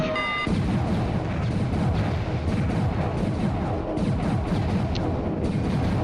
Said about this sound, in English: Problem with proton cannons, you gotta get really close.